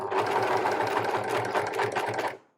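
A serger runs in a fast, steady mechanical whir as it stitches binding onto thin fabric at slowed speed, close and alone for about two seconds before stopping abruptly.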